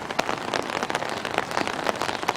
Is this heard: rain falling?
yes